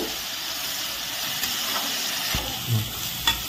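Potatoes frying in a pan with a little turmeric, stirred now and then: a steady close sizzle with a few scraping knocks of the spoon near the end, no voices.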